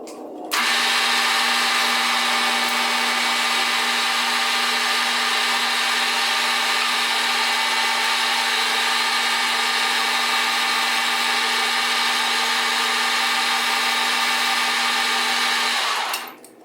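A metal lathe facing and chamfering a bronze knob held in a collet, running as a loud, steady machine whine with a constant tone for about fifteen seconds, starting and stopping abruptly, with no voices.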